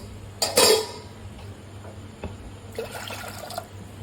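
Water poured into a pot of thick vegetable soup with carrot and capsicum, a short splashing gush followed by a few drips and a second, softer trickle of liquid.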